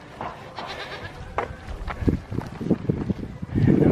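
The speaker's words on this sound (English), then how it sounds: "And then we got the billy goats over here." Two billy goats bleat at a roadside spot in Alaminos City, Pangasinan, Philippines, with several short nasal calls growing louder toward the end against wind and faint background noise.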